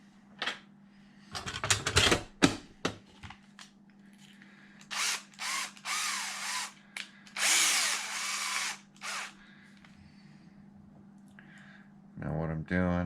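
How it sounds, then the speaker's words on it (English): Several bursts of a power drill boring holes in a metal bracket, short and irregular at first then longer runs, close and loud, with a steady hum underneath. "I'm going to use the factory bracket as a guide to drill holes in this bracket."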